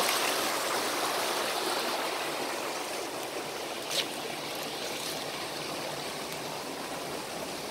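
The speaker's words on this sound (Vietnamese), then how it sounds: "Suối chảy rất là mạnh." A strongly flowing stream on rural farmland rushes in a steady, dense wash that carries on unbroken throughout, close and fairly loud, with one brief knock partway through and no voices.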